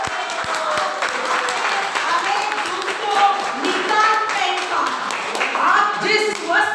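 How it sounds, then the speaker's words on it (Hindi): Congregation applause in a Hindi church service fills the space as a steady, moderately loud wash of many hands clapping, with voices and calls mixed in throughout. "ताली बजाइए खुदा के लिए।"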